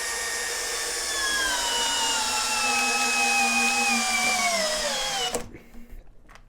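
An Ingco cordless impact drill runs in forward in gear 1, giving a loud, close, steady motor whine whose pitch sags slightly under load before it stops abruptly, followed by a few faint clicks.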